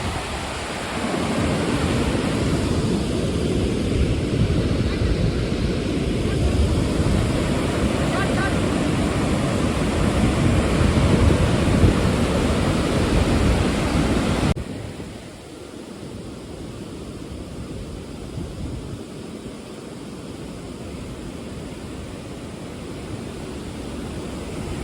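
Water released with great force from Hemavati Dam in Karnataka roars as a loud, steady broadband rush, close by and continuous, dropping somewhat quieter partway through but never stopping.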